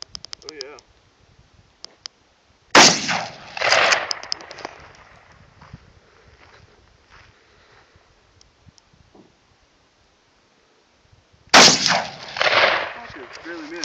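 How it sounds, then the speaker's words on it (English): Two loud shotgun blasts of buckshot fired at a long-range target, about nine seconds apart, each a sharp crack followed by a ringing tail, with people talking quietly between the shots. "About to fuck this target up long range."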